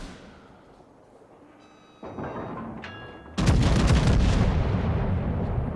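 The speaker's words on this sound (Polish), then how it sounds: "I salwa burtowa poszła w tego Deflingera" A broadside salvo from the battlecruiser HMS Tiger in World of Warships, a loud booming naval gun blast that jumps in partway through and rumbles on, preceded by quieter ambience and a smaller burst, no talking.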